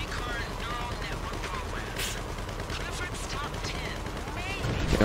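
Continuous gunfire crackles in bursts throughout a Doomsday Heist finale in a video game, with whooshing and chirping effects layered over a dense, busy background.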